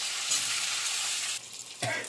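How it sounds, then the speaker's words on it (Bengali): Green chillies and chopped eggplant hiss loudly in hot oil seasoned with nigella seeds and dried chillies; the sharp sizzle abruptly drops to a softer fry, then flares briefly again. "কাঁচা লঙ্কা কটা কুচানো বেগুন দিয়ে দিচ্ছি"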